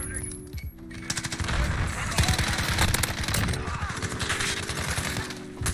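Automatic gunfire in a Modern Warfare multiplayer match, an Uzi-style weapon rattling in fast, sustained bursts close up, layered over a low in-game hum with a brief pause near the start.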